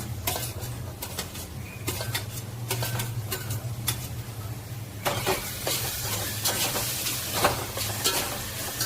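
Finely chopped tomatoes sautéing with golden-fried onions in a pan, continuous sizzling broken by frequent sharp scrapes of a stirring spoon, close and steady, livelier in the second half, over a low background hum.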